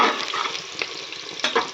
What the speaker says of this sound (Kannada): ಈರುಳ್ಳಿಯನ್ನು ಚೆನ್ನಾಗಿ ಫ್ರೈ ಮಾಡಿಬಿಟ್ಟು